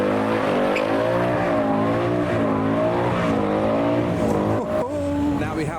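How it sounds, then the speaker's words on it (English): A Mustang Bullet doing a burnout off the line, engine revving hard in a loud sustained drone with rising and falling pitch, tire noise underneath, heard fairly close. "see some of the other cars do burnouts off the line"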